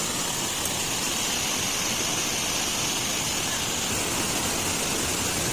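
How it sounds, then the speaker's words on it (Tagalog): A strong river rushing with a loud, steady broadband roar, heard close up and unbroken throughout with no talking. "lapit tayo dun sa ilog mga guys para makita natin ng malapitan kung gaano kalakas yung tubig"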